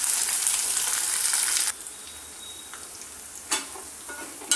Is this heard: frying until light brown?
yes